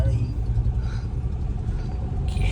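A car drives along a road with a low engine rumble and road noise from inside the vehicle, steady and close, while people talk.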